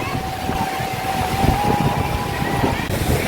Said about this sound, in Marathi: हे बघा आलं आली लाट आली